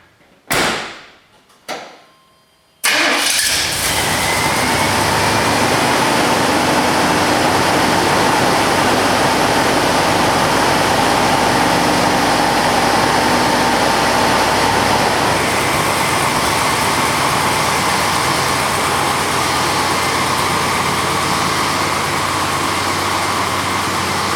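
A 1991 GMC C3500 pickup's 454 TBI V8 with a miss: two short clunks, then the engine catches and settles into a loud, steady, close roar that holds for about twenty seconds.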